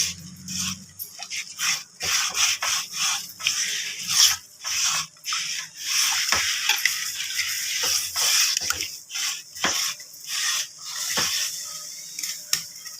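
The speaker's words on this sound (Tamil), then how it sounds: "ஒரு ஸ்க்ரப்பர் எடுத்து நல்லா தேய்ச்சி" A scrubber rubs over a new clay pot in rhythmic, close, rasping strokes that repeat steadily with short pauses between them.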